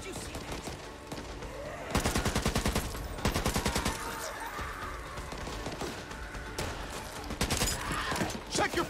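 Gunfire in the zombie shooter Back 4 Blood: repeated bursts of rapid automatic shots, close and loud, over a busy game background with a voice talking in places.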